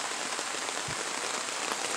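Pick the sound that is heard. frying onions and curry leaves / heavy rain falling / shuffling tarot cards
heavy rain falling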